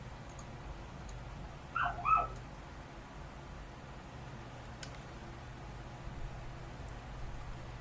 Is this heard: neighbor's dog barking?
yes